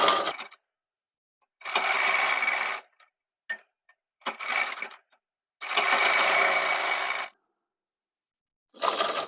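A sewing machine stitches the seam of gents' underwear fabric, running in four or five steady bursts of a second or two each, separated by short pauses and a couple of faint clicks.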